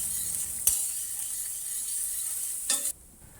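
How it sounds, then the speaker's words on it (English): Diced onion sautéing in oil in a pan over medium heat, a steady bright sizzle throughout, with two brief scraping stirs, the second just before the sizzle drops away. "Saute some diced onion until it starts to turn aromatic and becomes translucent."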